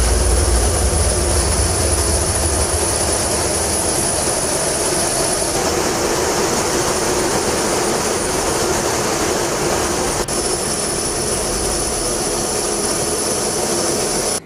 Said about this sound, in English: U.S. Air Force B-1 bombers out of Guam, as well as fighter jets out of Okinawa, Japan, flying over international waters.